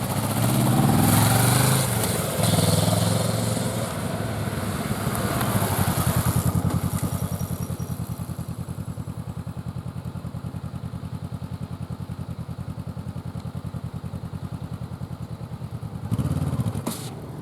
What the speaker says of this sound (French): Ta moto s'est roulée toute seule comme un vélo.